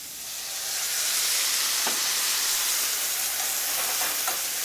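Mushrooms with garlic braise in a pan with a steady, fairly loud hiss of steam and sizzle that swells early and holds, marked by a few faint clicks.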